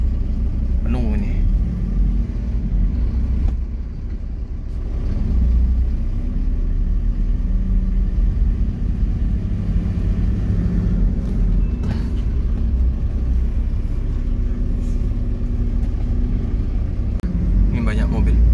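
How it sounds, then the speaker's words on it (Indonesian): Cars and buses roll out of a busy ferry dock, a continuous heavy engine rumble with passing vehicles close by and a brief hiss of air brakes. Someone talks over the traffic. "Banyak mobil bis-bis yang keluar."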